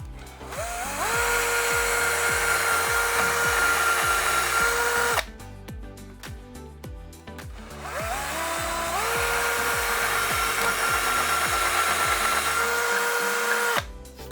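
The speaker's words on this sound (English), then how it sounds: "we're ready to drill the final 2 holes" A power drill whines loudly in two long bursts while drilling holes to fit wooden blinds, its motor pitch rising as each starts, separated by a short pause.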